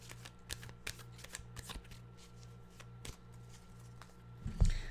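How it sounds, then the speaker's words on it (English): Tarot cards being shuffled by hand, a steady run of soft riffling flicks and slaps close up, ending with a louder thump as the deck is set down, with no talking. "Let's cut the cards here and see what the cards have to tell us about today's energy."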